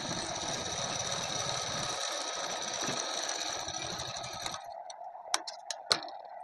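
A sewing machine stitches a double seam on a suit with a fairly quiet, steady mechanical whir that stops after several seconds, followed by a few light clicks and taps.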